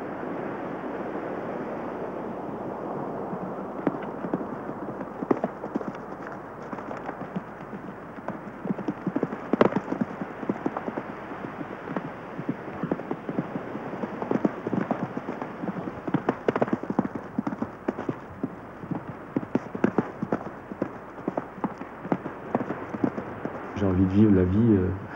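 Rapid rhythmic hoofbeats of a galloping horse pound on steadily for a long stretch, close and loud, with rushing noise around them.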